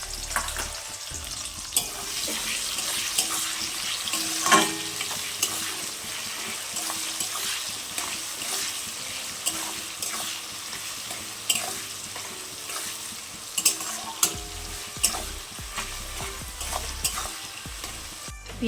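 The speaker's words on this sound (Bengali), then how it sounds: "পেঁয়াজগুলো আমার ভাজা ভাজা হয়ে গেছে" Chopped onions fry in a pan for a Bengali bhetki fish head and bones dish, with a steady close sizzle and the repeated scrape and clack of a spatula stirring throughout.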